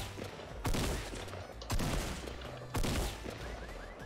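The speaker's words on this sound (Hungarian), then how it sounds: "Várjál, te lövöldözöl?" Gunfire in the Fortnite video game: three loud bursts of shots crack through about four seconds of steady in-game background noise, with no talking.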